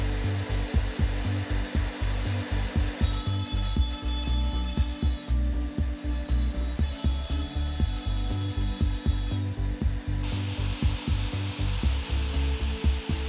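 A CNC router mills a roughing pass in wood, a steady grinding spindle whine with rapid rhythmic clicking cuts repeating throughout, close and continuous with no talking.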